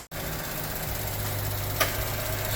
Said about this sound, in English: So we started the engine. Everything is running nice and smooth.